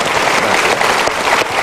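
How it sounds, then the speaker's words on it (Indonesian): Loud, close applause from a large studio audience at a motivational talk show, a thick continuous roar of many hands clapping with no voices over it. "Kita berikan tepuk tangan untuk Mas Noval dan juga Mas Ajis."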